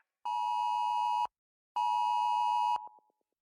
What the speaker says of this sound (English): there's a flash flood warning that appears on cell phones